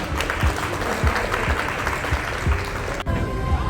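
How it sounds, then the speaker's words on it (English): Steady crowd applause at a children's experiential learning fete in Pune, loud and continuous with faint low thumps underneath, cutting off briefly near the end before resuming. "Let's give a huge round of applause to Didi Krishna Kumari."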